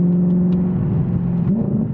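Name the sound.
Audi R8 V8 engine revving through exhaust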